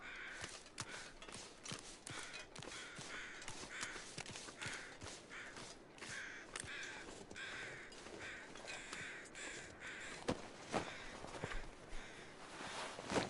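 Crows cawing repeatedly over a steady outdoor ambience in the survival game The Long Dark, with harsh calls scattered throughout and some clopping, footstep-like sounds mixed in.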